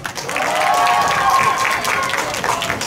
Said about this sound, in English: Let's give them a big round of applause as they bust through their banner